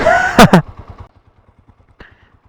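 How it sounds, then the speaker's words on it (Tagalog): Honda TMX 125 motorcycle engine idling with a steady, even low putter of regular pulses, after a brief burst of speech and noise at the start. "Buhay na buhay pa yung makina"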